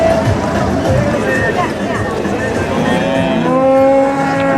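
Cattle low and moo amid a busy crowd at the Otavalo animal market, an outdoor open-air livestock market, with sustained tonal calls rising over constant babble and background noise.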